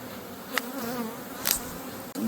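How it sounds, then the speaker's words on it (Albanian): Honey bees buzz steadily around hive frames during queen rearing, a continuous close drone with a couple of brief sharper bursts and no talking. "Bletë duke sjell polen"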